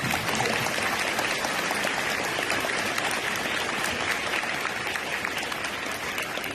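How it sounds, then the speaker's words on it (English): Audience at a live community musical show in Beachy Cove, Newfoundland, applauding with a dense, even wash of many hands clapping for several seconds, steady and moderately loud with no voices standing out. "a round of applause for Mr. Shoemaker."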